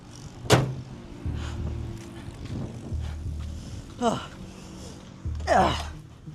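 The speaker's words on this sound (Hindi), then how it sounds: "गाड़ी तो स्टार्ट हो गई है" A car starts after its battery wire is reconnected: a low engine rumble comes and goes in bursts, with people talking and reacting over it.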